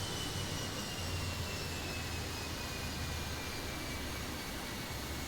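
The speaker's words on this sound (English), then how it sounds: "these planes are heading down the runway at a pretty good clip" Airliners rolling down the runway for takeoff in the Airport Madness 3D game, a steady broadband jet roar with a faint rising whine, continuous and fairly loud throughout, no voices.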